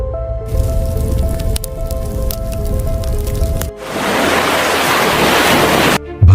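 Ocean surf rolling and washing steadily, a broad hissing roar of waves with wind noise, loud and continuous, swelling into a denser wash partway through.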